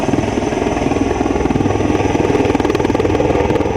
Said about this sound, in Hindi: ये जो है लाइट कॉम्बैट हेलीकॉप्टर